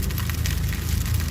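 Egg and coriander land in a sizzling pan, giving a dense, close crackling hiss like rain on a surface that holds steady through a brief moment.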